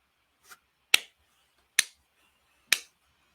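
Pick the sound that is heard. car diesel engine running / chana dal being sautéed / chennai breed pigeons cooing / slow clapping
slow clapping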